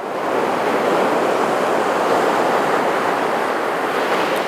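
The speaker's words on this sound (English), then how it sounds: "It's not every day that I get this backdrop of ocean waves." Ocean waves wash steadily as a broad, continuous surf roar, loud and close, with no voices and no breaks in the rushing sound.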